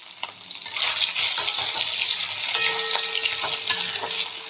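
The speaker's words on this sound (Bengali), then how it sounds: "আগে না পনিরগুলো ভেজে নেব," Paneer cubes frying lightly in hot oil in a pan give off a continuous close sizzle, with scraping stirs and small clinks of the spoon, no voices.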